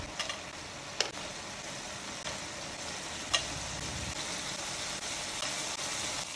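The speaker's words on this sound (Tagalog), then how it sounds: "nag-start na ako mag-fry ng mga nagawa kong beef roll sa katamtamang init ng mantika" Enoki beef rolls fry in moderately hot oil, giving a steady, close sizzle and crackle with a few sharp pops of spattering throughout.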